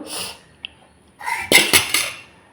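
Lunch is packed into lunch boxes in a home kitchen, with a faint early clink and then a burst of loud, close clattering of metal containers and utensils in quick succession.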